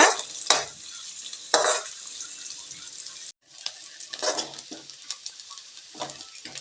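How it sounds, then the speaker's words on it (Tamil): Two large onions, sliced lengthwise, sautéing in a pan with a steady sizzle, broken by louder scraping stirs and one brief pause, close and fairly quiet with no voices. "வெங்காயம் நல்லா வதங்கட்டுங்க."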